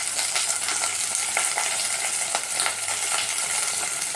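Chopped onion sizzles steadily in a hot pan for cabbage chutney, with a dense, continuous frying hiss broken by soft scraping as a spoon stirs it, close and moderately loud.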